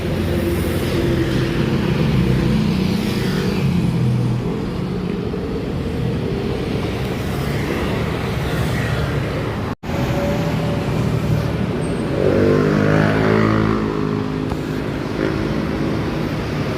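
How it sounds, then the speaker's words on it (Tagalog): Private cars passing along a road at night, a steady roar of traffic with a heavier vehicle rumbling by toward the end, heard from the roadside with no talk. "yan mga dumadaan po na mga sasakyan"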